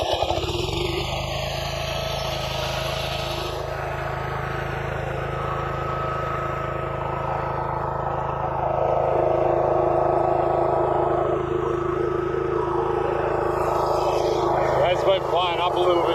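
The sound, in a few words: motor restarting and running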